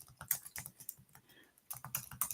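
Fast, uneven clatter of keys on a computer keyboard with a short pause midway, close and clear, during a daily tarot card reading livestream.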